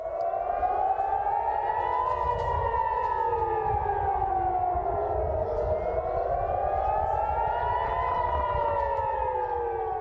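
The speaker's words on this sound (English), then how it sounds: "Just moments ago, air raid sirens sounded in Tel Aviv." A loud air raid siren in Tel Aviv wails continuously during an Iranian attack, its pitch slowly rising and falling in long sweeps over steady low rumble, with no voices.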